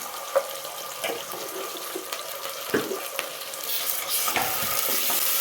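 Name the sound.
ginger garlic paste frying in a pan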